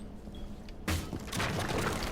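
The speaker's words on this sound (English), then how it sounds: "Open this door up." A door barricade breaking open in Rainbow Six Siege, a sudden loud crash and splintering burst after a quiet lead-in, followed by continued rough debris noise.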